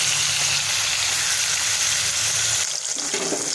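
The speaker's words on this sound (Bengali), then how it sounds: "মাছটাকে ভেজে নেব।" A fresh river bata fish sizzles in hot oil, a steady dense frying hiss that holds close and even throughout, with a faint scrape near the end.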